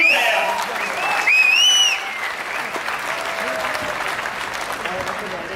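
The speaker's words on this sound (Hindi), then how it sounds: "ऐसे प्लेटफॉर्म को मैं चाहूंगा एक जबरदस्त वाली ताली इस प्लेटफॉर्म को" An audience at a motivational speech bursts into loud, dense applause that holds steady, with whoops and a whistle rising over the clapping near the start.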